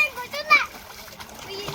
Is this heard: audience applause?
no